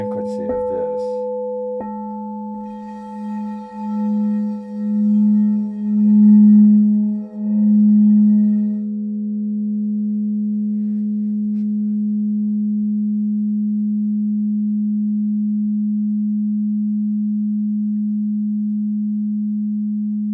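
A crystal carillon rings with a single low, pure tone that sustains steadily for a long time, gently pulsing in loudness before settling into an even, lingering hum, with faint higher overtones fading early.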